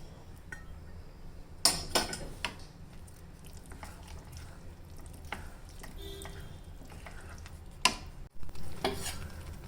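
White pasta being stirred in a pan, soft squishy stirring with a quiet sizzle underneath and a couple of sharp clinks of a utensil against the pan.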